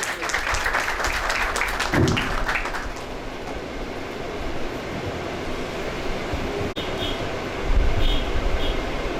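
A church congregation at a worship program in Green Town, Lahore, Pakistan claps loudly and at length. Voices and other crowd noise blend into the wash, and there is a brief knock near the end.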